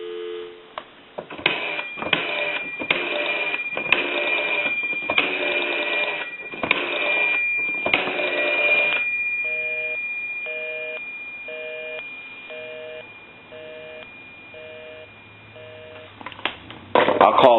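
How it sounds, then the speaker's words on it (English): A run of bursty telephone tones and rings from an A&E Monophone rotary desk telephone under repair gives way to a regular repeating dial-tone beep pattern, ending with a louder burst of noise. "Give you some dial tone."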